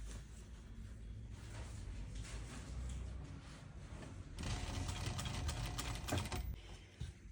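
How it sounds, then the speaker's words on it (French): Sewing machine running steadily while stitching a sleeve hem folded over 3 cm, close and continuous, growing louder and busier over the second half. "vous allez tout simplement piquer à 1 mm du bord"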